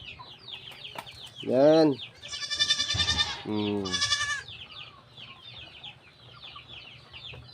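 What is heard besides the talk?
chickens clucking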